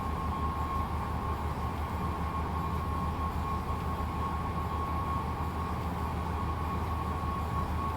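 Steady rumble of a DB BR 101 electric locomotive hauling a passenger train in Train Sim World, running continuously with a constant tonal whine over dense wheel-and-track noise, loud and unbroken throughout.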